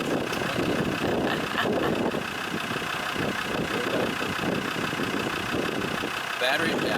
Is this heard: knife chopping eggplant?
no